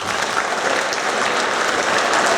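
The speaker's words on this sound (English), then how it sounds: "Round of applause." A school audience claps for seventh-grade award winners, a dense burst of applause from a crowd filling the room, steady and fairly loud with no speech over it.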